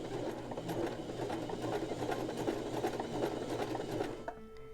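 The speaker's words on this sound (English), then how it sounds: "Now you can confidently sew your stitches." A Janome sewing machine with a presser foot stitches a button in a steady, fast mechanical whir for about four seconds before winding down and stopping.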